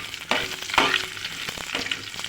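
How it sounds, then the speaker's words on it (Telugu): Onions and dried red chillies fry in a pan, giving a crackling sizzle broken by brief stirring scrapes, close and moderately loud, with no voices. "ఇప్పుడు ఇందులోకి ఎండుమిర్చి వేయాలి."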